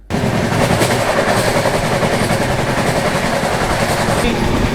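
Steady, loud rumble and rattle as the 22412 Arunachal AC Superfast passes the Dibrugarh Rajdhani during heavy monsoon rain, with continuous rolling noise and faint clickety-clack throughout.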